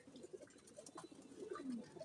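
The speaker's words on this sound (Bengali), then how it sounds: "আর এইখানেও মোটামুটি বেশ কিছু কবুতর গোসল করছে" Pigeons coo softly on a rooftop while bathing in water, low murmuring calls repeating over a faint background, with no talk.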